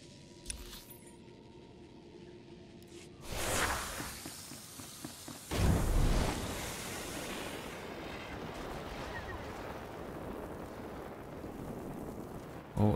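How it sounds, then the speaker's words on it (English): An explosion in Star Wars: The Old Republic sounds as a sudden loud rushing blast, followed by a second heavier boom and then a long roaring rumble that fades out slowly. "Explosion."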